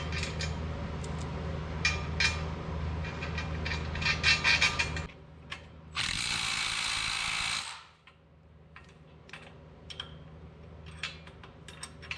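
A ratchet tightens bolts during assembly of a machine: a run of quick, sharp metallic clicks and ticks, broken by a short, steady, harsh burst of noise, then scattered lighter clicks in a quieter room.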